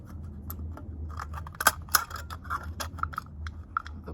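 Scissors snip around the bottom of an aluminium drink can, a series of sharp crisp metallic cuts at uneven intervals, close up and fairly quiet over faint background hum.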